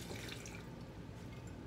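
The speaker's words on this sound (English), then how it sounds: "Then in goes 3/4 a cup of water," Water, three-quarters of a cup, is poured into a blender holding drained cooked potatoes and carrots for a nacho sauce. A short, steady close splashing fill continues without a break.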